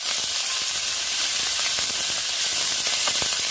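Honagone greens sautéing in a pan give off a continuous, bright sizzling hiss with faint crackles, steady and close with no voice over it.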